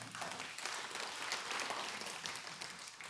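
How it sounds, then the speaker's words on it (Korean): An audience claps together in a steady, dense round of applause at a lecture, filling the full three seconds evenly with no voices over it. "예, 박수 한번 쳐봐요."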